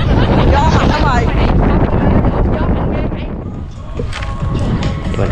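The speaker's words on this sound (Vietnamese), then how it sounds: "Gió mạnh lắm rồi." Strong wind buffets the microphone outdoors at a tourist area, a loud constant roar of rumbling gusts, with voices faintly audible beneath it.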